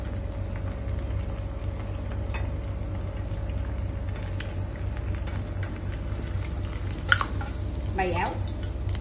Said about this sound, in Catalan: el que farem és fregir-lo amb l'oli bastant calentet